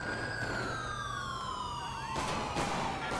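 A GTA 5 police siren wails and sweeps downward in pitch over a constant engine-like hum during a chase, then sharper siren bursts cut in, loud and close, with no speech.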